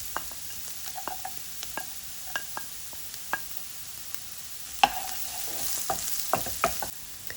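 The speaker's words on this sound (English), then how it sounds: "In the same pan with the remaining oil, add the carrots and stir well." Carrots and garlic frying in oil in a pan, a soft steady sizzle punctuated by repeated sharp scrapes and taps of stirring, with the frying growing louder toward the end; no talking.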